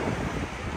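Wind blows steadily outdoors over an open field, a continuous close rushing noise with low rumbling buffets against the microphone, no voices.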